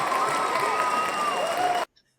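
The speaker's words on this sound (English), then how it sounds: "You got the cheers. You got the claps." Cheering and clapping sound effect, a dense burst of crowd applause and cheers lasting under two seconds before cutting off abruptly to silence.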